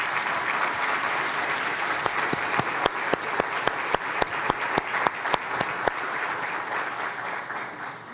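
A conference audience applauds to welcome former Governor Gary Locke to the stage at a policy keynote, with dense sustained clapping and a run of sharp louder claps standing out through the middle before it thins at the end.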